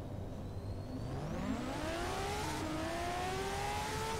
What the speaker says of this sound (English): This car I do launch on the launch control method with the handbrake